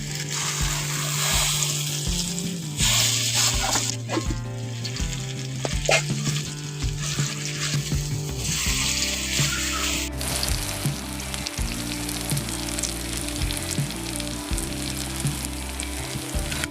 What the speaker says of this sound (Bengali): এখন ওলের বড়ার এক পাশ ভাজা হয়ে গেছে এখন উল্টে দিচ্ছি